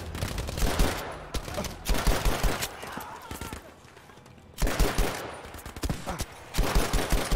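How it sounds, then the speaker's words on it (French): Rapid bursts of automatic gunfire from an unusual weapon in Battlefield V, loud and close, coming in clustered volleys with a brief lull in the middle before firing resumes. "Vraiment, j'arrive pas à tirer avec cette arme ou quoi?"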